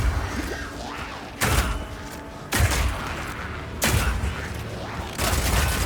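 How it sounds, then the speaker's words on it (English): Four sharp, loud sniper rifle shots fire at roughly even intervals in Path of Exile 2, each a booming crack that rings out over a low, steady game ambience. "This one works just like a classic sniper rifle"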